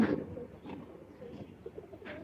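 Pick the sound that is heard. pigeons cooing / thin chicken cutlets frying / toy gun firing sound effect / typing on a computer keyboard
pigeons cooing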